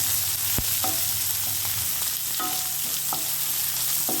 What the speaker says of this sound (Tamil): ரெண்டு பெரிய வெங்காயம் கட் பண்ணி வச்சுக்கிட்டேன். அதையும் இதில் சேர்த்து நல்லா வதக்கிக்கலாம்.